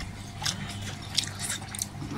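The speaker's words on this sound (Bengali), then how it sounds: "একটু কচুটা খাই, কচু।" Close, soft biting and chewing of cooked taro (kochu), with a few wet, squishy bites and a sharper crunch near the middle, set over a low steady background hum and free of speech.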